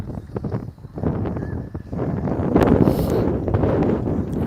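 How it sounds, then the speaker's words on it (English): Gusting wind buffeting the microphone at a high school baseball field on a senior day game, rising and falling in rough bursts with muffled low rumble throughout. "It is windy once again,"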